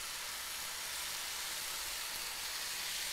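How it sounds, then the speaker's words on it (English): Black beans and spinach sauté in a pan, giving off a steady, close hiss and sizzle with no talk over it. "we're just gonna saute those with our spinach"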